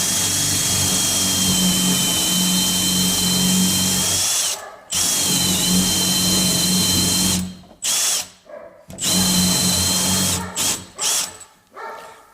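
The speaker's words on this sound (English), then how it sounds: "drill through until the tip of my bit comes through on the other side" A power drill whines loudly in long steady bursts, stopping and restarting several times, ending in short choppy pulses as it bores through a wooden door.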